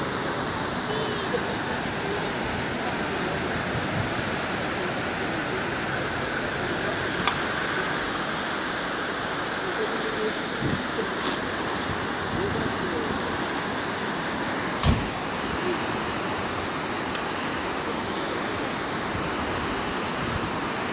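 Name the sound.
flooding Pescara river rushing with strong current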